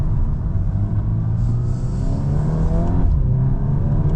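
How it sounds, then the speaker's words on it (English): A steady artificial engine drone piped into the cabin of a 2025 Volkswagen Golf R, low and rumbling with a faint rising hum, continuous and fairly loud, with no talking. "It does have some fake sounds coming into the cabin"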